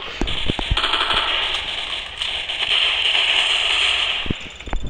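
Gunfire rings out in the Roblox game Zombie Stories, loud sharp cracks scattered over a bright, constant electronic game tone.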